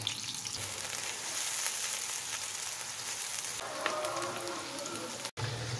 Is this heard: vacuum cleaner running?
no